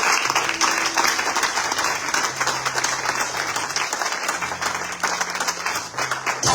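A church congregation applauds and cheers the Lord, a dense, steady wash of clapping from a large crowd throughout, with a low musical drone beneath.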